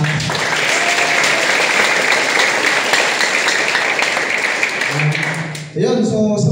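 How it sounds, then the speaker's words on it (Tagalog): Loud, dense applause from an audience at a meet-and-greet event greets Master Rocky, a thick roar of clapping that cuts off abruptly near the end as a voice begins speaking. "pinakamalakas na palakpak para naman sa taas"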